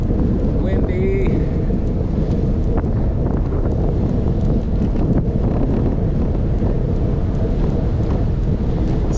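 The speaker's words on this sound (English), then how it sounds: "Windy." Strong, steady wind buffeting the microphone during a bicycle ride on a shared cycling and walking path in Glasgow, a loud continuous roar filling the whole stretch with faint traffic-like rumble beneath.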